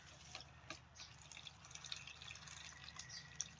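Water pours into a tub for sprouting hydroponic seeds, a faint, steady trickle with light splashes and drips, quiet and close, with no talking.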